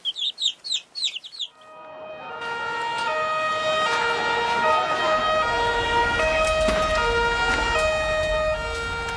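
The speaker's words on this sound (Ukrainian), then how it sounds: "Якось раз над полем завили пожежні сирени." Hens cluck briefly, then a loud siren wails steadily and fills the rest of the clip with rising and falling tones.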